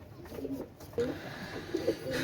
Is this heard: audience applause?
no